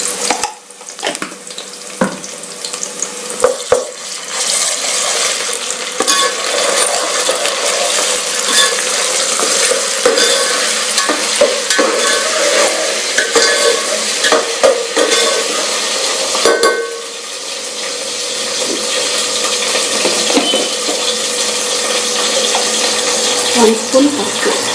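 Ginger garlic paste frying in a pan for curry, a loud, continuous sizzle with spattering crackles and repeated stirring scrapes throughout, and a brief dip in the middle.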